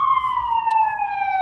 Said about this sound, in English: there's a siren somewhere.